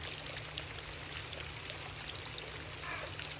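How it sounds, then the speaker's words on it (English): Muddy water pours up out of the ground after soil liquefaction in the 2011 Tohoku earthquake in Japan, a steady, even rush of gushing water that runs unbroken throughout with no voices. "you can see this kind of muddy water pouring out onto the surface"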